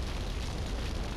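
A burning, still-exploding house in Grand Theft Auto: Liberty City Stories gives off a steady, loud, rumbling roar with no distinct separate blasts.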